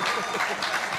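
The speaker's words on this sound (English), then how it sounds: "Big round of applause for Happy Chazze." Brief burst of audience applause for a comedy act, a dense, continuous clatter of many hands lasting about a second.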